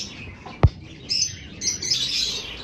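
Breeding birds in an aviary give high, thin chirps in short clusters, moderately close, with one sharp knock or tap early on and a soft background hum.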